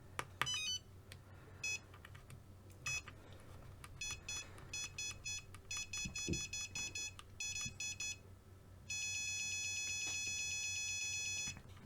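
Repeated electronic beeps from the alarm of a Flysky FS-G7P radio transmitter, sounding in short bursts at an uneven rhythm before switching to one long steady tone near the end, loud and close with no talk.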